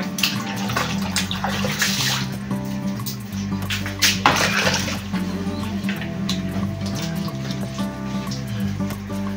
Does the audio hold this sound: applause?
no